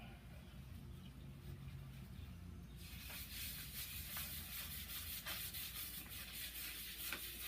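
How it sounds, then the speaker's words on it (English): A low steady hum of a running lathe turning a wooden bowl, then a hissing, rubbing sound starts partway through with rhythmic scraping pulses as sanding sealer is applied, close by. "Now I'll put a little sanding sealer on it."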